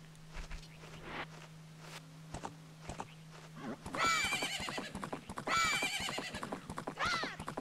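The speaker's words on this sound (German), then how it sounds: "Jedes Mal mit Epona da lang reiten." Epona, the horse in Zelda: Ocarina of Time, gives several loud shrill whinnies amid clip-clopping hoofbeats as game sounds, with a low hum underneath.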